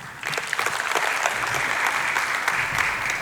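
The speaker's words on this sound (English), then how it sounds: "Let's give him a big round of applause." An audience at a national local government service delivery indaba breaks into sustained applause, a dense wash of clapping that starts just after the opening and holds steady and loud to the end.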